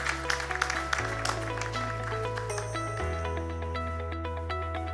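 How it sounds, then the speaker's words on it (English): Audience applause at a management convention, scattered clapping near the start fading under sustained stage music with a steady low tone. "A big round of applause, ladies and gentlemen, for Mr. Yash Radia."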